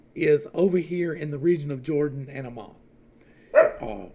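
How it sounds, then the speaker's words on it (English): A pet dog barks nearby in two short bursts, a yappy run of woofs followed by a single bark after a pause, while someone talks over the first burst. "Sorry, that's my dog."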